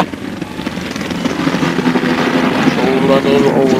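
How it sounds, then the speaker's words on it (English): An enemy helicopter in the video game Battlefield 4, its steady rotor drone and whine filling the clip loudly and building slightly, with a voice speaking over it. "I have eyes on an enemy helicopter."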